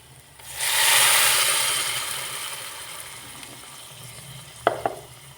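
Garagata, a village-style Maharashtrian dish, hits hot oil in a pan with a loud burst of sizzle that slowly fades. A couple of sharp utensil knocks follow near the end.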